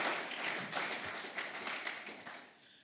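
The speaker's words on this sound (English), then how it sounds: "let's have another round of applause for our 2022" An audience at the 2022 Kate Gleason College of Engineering alumni awards applauds. The clapping is faint and steady, sounds a little distant, and thins out near the end.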